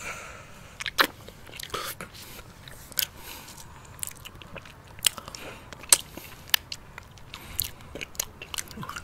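Watermelon ice cream is eaten close up, with soft wet bites and chewing and occasional crisp clicks over quiet background noise.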